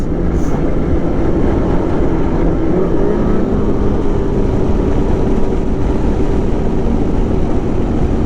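A 2020 Polaris Indy XC 129 snowmobile runs along trails in Pittsburg, New Hampshire, its engine a loud, constant drone with a broad rumble and a slowly shifting pitch throughout, close and steady, with no voices.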